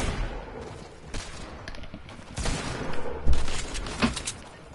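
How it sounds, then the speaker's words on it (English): Hand cannon fired in a video game on the Sarter map, a few sharp shots and bursts scattered over a few seconds, fairly close, with game noise between them and no talk. "Come with the hand cannon!"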